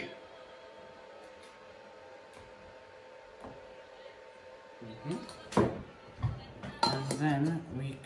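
Crushed biscuits and a teaspoon of sugar are mixed in a bowl for a no-bake vanilla cheesecake base. A quiet stretch gives way to close scraping and clinking of a spoon against the bowl in a few irregular bursts.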